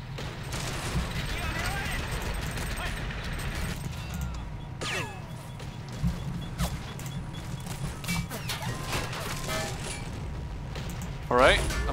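Machine gun fire and explosions in the World War II strategy game Men of War: Assault Squad, scattered bursts and booms over a rumbling battlefield backdrop.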